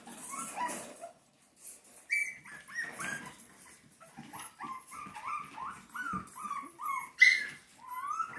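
A litter of Shih Tzu puppies whimpers and yips in a run of short, high, plaintive cries close by, some overlapping, with brief pauses between bursts.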